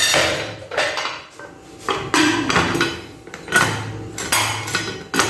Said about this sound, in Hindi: उसके बाद जो है इसको कुकर का ढक्कन लगाते हैं।